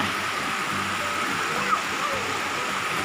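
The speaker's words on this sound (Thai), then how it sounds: "อันนี้เป็นน้ำตกชั้นไหนเนี่ย" Pha Tat waterfall in Srinagarind Dam National Park pours with a steady, close hiss of rushing water, continuous and even, with a voice faintly under it.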